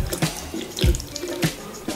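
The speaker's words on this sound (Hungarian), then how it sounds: "Kicsavarom belőle a vizet." Water is wrung from a freshly washed doll's wig over a sink, giving wet splashes and drips in a few short bursts, close and fairly loud, with no talking.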